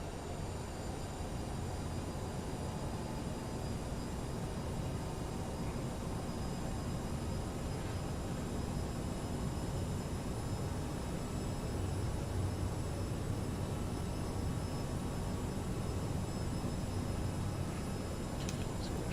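Jet engine roar from a CRJ700 in a flight simulator as power comes up on final approach, a steady broadband rumble with a faint high whine holding at constant loudness throughout, no talking over it.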